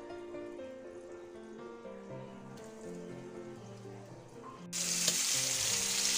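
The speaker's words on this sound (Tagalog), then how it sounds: "yung pre-prito natin" Flour-coated meat pre-fries in a pan for mafrum, a soft steady sizzle under tonal background music that swells into a loud, bright hiss near the end.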